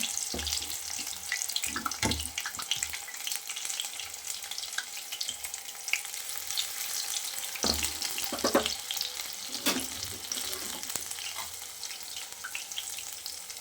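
Curry leaf bonda fritters deep-fry in hot oil with a steady, close sizzle and bubbling, broken by a few soft bumps and clatters from the pan.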